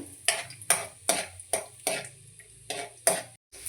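Cashews and chopped almonds frying in a pan while a utensil stirs them, giving a run of repeated scraping, clinking strokes roughly every half second over a faint sizzle.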